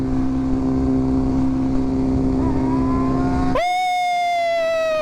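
A motorcycle engine revs hard during a wheelie attempt, a loud sustained drone whose pitch climbs before dropping into a higher, cleaner whine partway through.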